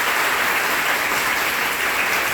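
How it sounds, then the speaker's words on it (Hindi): Loud, dense applause from an audience cheering students at a Hindi Diwas programme at Lucknow University rolls on steadily without a break. "तो एक बार जोरदार तालियां इन बच्चों के लिए।"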